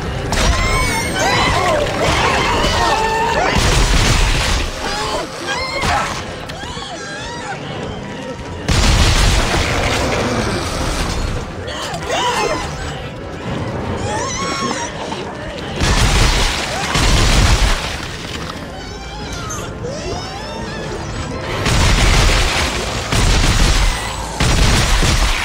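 Gunfire and explosions from Dead Space 3 as Isaac fights creatures pouring from a ventilation shaft: dense, loud bursts and booms recur throughout, layered under a shouting voice and game music.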